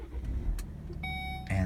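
Push-button start of a 2017 Volvo S60 T5 AWD with a 2-liter four-cylinder Drive-E engine: a steady electronic tone, then the engine catching at the end and settling into a loud low rumble, with faint speech nearby.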